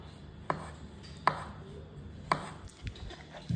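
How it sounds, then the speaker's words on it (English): A knife slices a peeled avocado into thin pieces on a cutting board, giving three quiet, crisp taps spaced about a second apart over low background hum. "we are going to cut it into thin slices"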